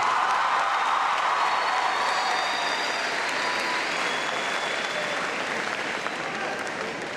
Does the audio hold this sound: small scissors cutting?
no